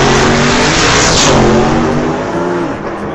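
A clutch-equipped drag car nicknamed Reform School revs hard at the starting line of an old-time drag race in Langley, a loud, steady engine roar with harmonic bands swelling and easing over a few seconds.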